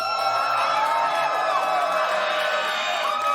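Esports arena crowd cheering and whooping at a VCT Americas Kickoff play-in match, a dense, steady roar of many voices held at constant loudness throughout without a break.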